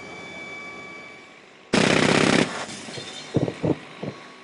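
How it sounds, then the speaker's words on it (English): A Russian Pantsir-S anti-aircraft system modified for Arctic conditions fires one loud, dense burst lasting under a second, followed by a few short, sharper cracks, heard outdoors at a bleak Arctic military base. "That's Russia's Panzer S anti-aircraft system, specially modified for Arctic conditions"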